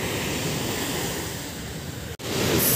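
A steady wash of ocean surf at Nha Trang, Vietnam, with wind rushing across the microphone, continuous and fairly loud, broken by a brief dropout near the end.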